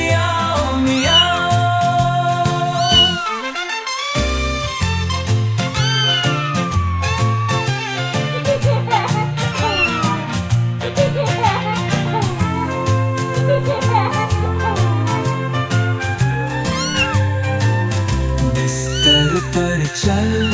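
A cat meowing as part of a Hindi children's nursery rhyme, with repeated meow calls sung or voiced over a loud, constant musical backing for the full twenty seconds.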